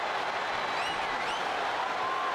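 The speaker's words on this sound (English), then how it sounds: "And do you hear this capacity crowd?" A capacity crowd in the WWE 2K25 video game cheers during a no-holds-barred wrestling match, heard as a steady, distant wash of roaring and applause with no break.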